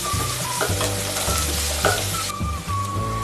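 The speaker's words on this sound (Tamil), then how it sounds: "வெங்காயம் கட் பண்ணி வச்சுருக்கோங்க, அதை சேர்த்துக்கிறேன். இதை நல்லா கலர் பண்ண அளவுக்கு வதக்கிக்கலாம்." Chopped onions sauté in a pan with a loud, continuous close-up sizzle, broken by repeated scraping stirs and brief clanks of the spoon against the pan, with no voices.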